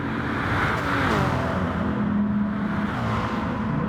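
Racing cars in a video game, a Bugatti Veyron and a Volkswagen Scirocco on Tokyo's expressway outer loop, give a steady close engine drone with a shifting pitch that holds for the whole stretch.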